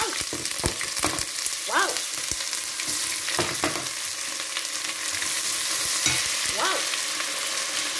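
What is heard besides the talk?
onions frying for coconut rice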